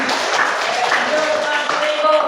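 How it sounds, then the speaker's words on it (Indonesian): A ninth-grade classroom of students claps together in a dense, steady patter of hands that lasts the whole moment, with no gaps. "Tepuk tangan lagi."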